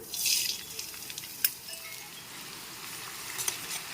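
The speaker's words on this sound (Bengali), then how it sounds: "এখন তেলটা গরম হয়ে এসেছে, পেঁয়াজ কুচিটা দিয়ে দিচ্ছি।" Chopped onions hit hot oil in a pan, a soft steady sizzle with a brief louder hiss at the start and occasional sharp clinks of stirring, with no voices.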